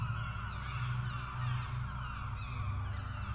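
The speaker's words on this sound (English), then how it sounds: "Birds circling." Loud flock of honking, goose-like birds circling overhead in the game The Last Door: Season 2, a steady overlapping chorus of calls over a low droning ambience throughout, with no talking.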